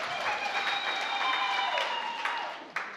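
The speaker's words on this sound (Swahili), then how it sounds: "Mpigieni makofi." Wedding guests applaud the couple in a dense, steady burst of clapping that stays strong throughout, with a faint high tone ringing above it.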